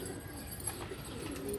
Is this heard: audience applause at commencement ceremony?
no